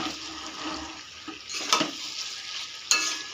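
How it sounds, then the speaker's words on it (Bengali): Potato, pointed gourd and paneer curry with ghee and garam masala stirred in a pan, a soft sizzle broken by two sharp scraping strokes of the spoon. "এবারে দিয়ে দিলাম একটু ঘি আর সুকন্যা শাহি গরম মশলা দিয়ে একটু নাড়াচাড়া করে"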